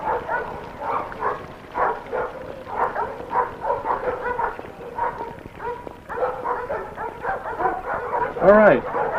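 Dogs trained as guide dogs give scattered barks and yips close by under ongoing conversation, with a brief whimper-like rise near the end.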